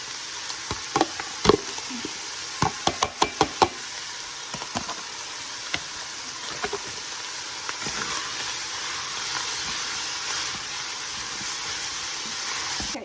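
Almost one onion and two stalks of celery fry in a pan with a steady sizzle, broken early on by a burst of sharp clicks and stirring knocks that later thin out, leaving an even hiss.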